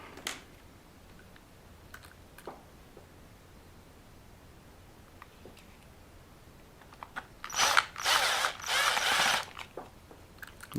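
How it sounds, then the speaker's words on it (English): Small screws being driven back into a plastic rear bumper of an LC Racing 1/14 RC car, heard as close, quiet clicky ratcheting turns that build into a louder burst of rapid scraping near the end. "And then obviously we put the two screws back in this side."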